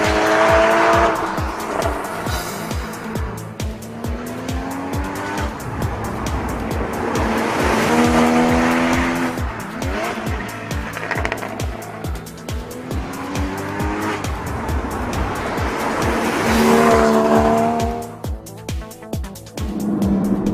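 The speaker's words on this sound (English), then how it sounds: "So that's a little mess around with the Cayman GTS on the road" A Porsche Cayman GTS sports car driven hard on a public road, its engine rising and falling through revs in loud, continuous acceleration runs with gear changes, close and steady throughout with no talk.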